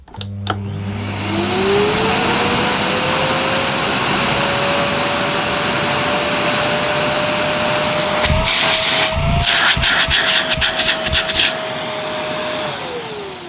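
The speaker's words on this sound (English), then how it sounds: "I'm going to start it off on max. We'll see if it has a slow or soft start feature." A Morphy Richards Family & Pets vacuum cleaner switched on at max power ramps up from a soft start to a loud, steady whine and roar that runs unbroken and close by, with bursts of clatter near the end before it winds down.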